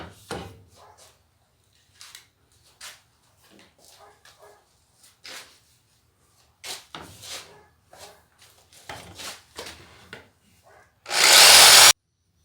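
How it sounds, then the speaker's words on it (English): A jigsaw cuts through a clamped plate, heard first as scattered short rasping bursts and knocks at moderate level, ending in one loud continuous burst of sawing near the end. "So now that all the finishing cuts have been made by the jigsaw"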